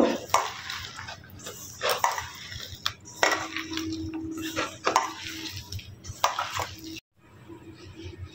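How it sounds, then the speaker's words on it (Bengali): Gram flour batter with Kashmiri chilli powder, Maggi masala and turmeric is mixed by hand in a bowl, producing repeated wet squelches and clattering knocks against the bowl in an irregular rhythm, then stopping briefly. "এবারে হাত দিয়ে মেখে নেব।"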